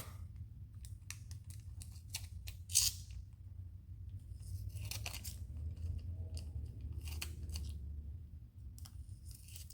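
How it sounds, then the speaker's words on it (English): Scissors snip through excess material trimmed from an alcohol ink pendant, a run of short crisp cuts in quick bursts close up, with one sharper snip standing out, over a low steady background hum and no talking. "So make sure you cut off all your excess here."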